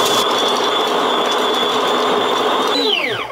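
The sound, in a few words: sub-$100 electric espresso grinder running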